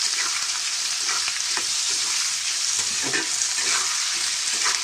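Beef tripe fries in hot oil in a wok, giving a loud, steady, close sizzle with a few soft stirring knocks underneath and no talking.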